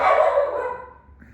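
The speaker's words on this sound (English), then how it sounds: "he sees anything go by and he barks at it" A single dog bark, loud and close, trailing off quickly into quiet.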